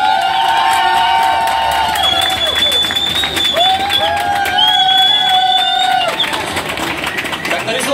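Loud crowd cheering and applauding during a beauty pageant swimsuit promenade at an indoor aquapark venue, continuous clapping with whistles and shrill shouts rising over the noise throughout.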